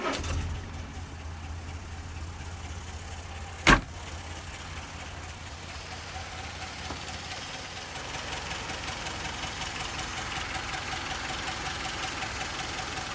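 A Land Rover Series 3 engine is cranked and fires with a short bang, then settles into a steady, moderately loud idle with a faint knocking rumble that continues to the end.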